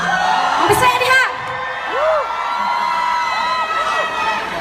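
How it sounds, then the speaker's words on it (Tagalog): A Bisaya crowd at a concert in Dubai cheers and whoops loudly, a dense roar of voices with shrill yells rising and falling over several seconds. "I wanna hear the Bisaya crowd right there"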